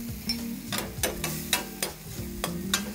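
Red chillies frying in a hot tadka in a pan, stirred with a utensil, giving a close, fairly quiet sizzle broken by repeated sharp scraping strokes at an uneven rhythm.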